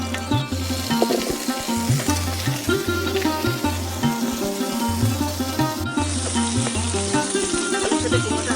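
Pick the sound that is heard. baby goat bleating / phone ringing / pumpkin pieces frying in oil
pumpkin pieces frying in oil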